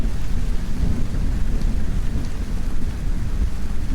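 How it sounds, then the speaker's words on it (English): Rain and rolling thunder from the Kerbal Space Program game, a dense, steady low roar with rumbling thunder beneath the patter, continuous and loud throughout with no talk. "Wow, you can hear the rain inside the cabin."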